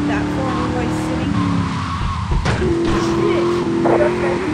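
Race cars in a GTA III race mission roar with engine whine and screeching tire skids, loud and close, with a brief thump midway and engine pitch shifting as the cars slide.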